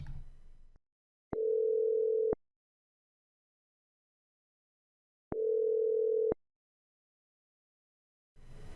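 An Enterprise desk phone redialing another line gives two clear, steady one-second call tones separated by about three seconds of silence, close and clean.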